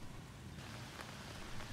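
Heavy rain falling over flooded streets in Hanoi, a steady dense hiss of downpour with no gaps, moderately loud and continuous throughout with no voices.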